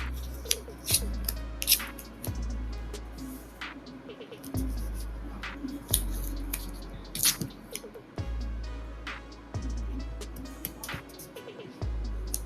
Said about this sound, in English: And then I grab a little bit of tape so that it doesn't move while I'm transferring.